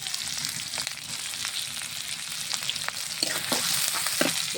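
Cumin seeds and chopped onion fry in mustard oil in a wok, giving a steady close sizzle and crackle with a few sharper spatters and stirring scrapes toward the end.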